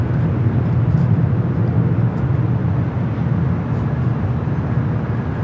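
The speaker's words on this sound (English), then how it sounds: "We have a Delta A350, the next takeoff on the south side." A Delta A350 airliner takes off from the south side of LAX with a steady, broad jet roar, continuous and fairly loud with no voices.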